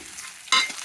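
Onions frying in a pan for a Telugu pakodi majiga pulusu (yogurt kadhi) recipe, a soft stir-fry hiss that jumps to a loud, bright sizzle about halfway through, as if stirred, with no talking.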